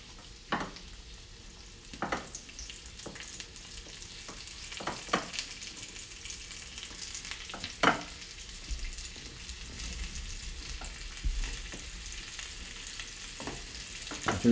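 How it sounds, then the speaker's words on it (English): Flour-coated beef chunks brown in a hot pan for stew, producing a soft, steady sizzle with occasional sharper spits and crackles, fairly quiet and close, no talk. "We're just going to brown the beef up now."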